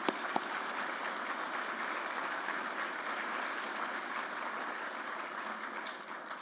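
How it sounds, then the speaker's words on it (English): Sustained audience applause at a Solutions Utah annual conference in Salt Lake City, a dense even wash of clapping from a large room holding steady for several seconds before easing slightly at the end. "if you could join us in giving them a round of applause"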